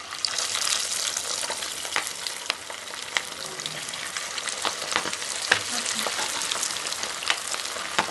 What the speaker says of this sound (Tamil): இப்போ போட்டு பொரிச்சிடலாம்.